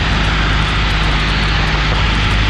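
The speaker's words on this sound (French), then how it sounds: "On va couper un peu le moteur." Small training airplane on a solo approach into Quebec City with the engine throttled back: a loud, close, steady cabin drone with a low, even hum and no talking.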